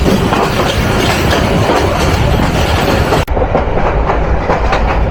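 Tista Express rolls along the rails from Dhaka to Dewanganj, a loud, dense rumble with rhythmic wheel clatter that drops briefly before carrying on just as heavily.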